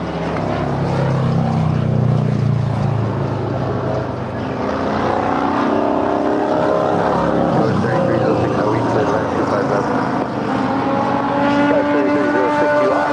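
An airliner landing on runway 25 left at LAX gives a loud, close, continuous engine roar with shifting whining tones, while voices talk over it.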